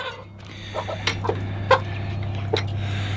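Chickens and roosters cluck in short, scattered bursts over a steady low hum, several birds close by, with a louder squawk near the middle.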